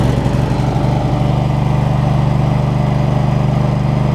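A Husqvarna Z248F zero-turn lawn mower engine idles steadily and close, with an even low throbbing drone that holds constant throughout and no talk over it.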